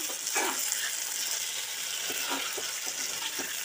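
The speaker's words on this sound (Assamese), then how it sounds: "অকণমান ৰঙচুৱা হোৱাকৈ মই ভাজিম আৰু তাতে অকণমান হালধি দি লওঁ" Taro pieces sizzling gently in hot oil in a pan with turmeric, a soft steady hiss with occasional light stirring scrapes, close and fairly quiet.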